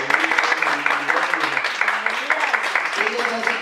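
Church congregation applauding two visiting nieces, a moderate wash of clapping from many hands with voices carrying over and through it.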